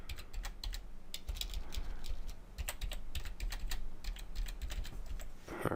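Rapid keystrokes on a computer keyboard as login details are entered, a steady run of close, crisp clicks with brief pauses, no voices.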